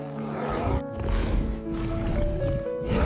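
A saber-toothed tiger charging its prey lets out a deep, continuous roar, loud and close over a dense, rumbling wash of noise.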